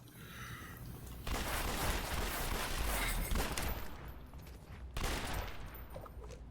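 Gunfire in the video game City of Heroes: Homecoming: sustained, dense volleys of shots that surge in two bursts, with no talking.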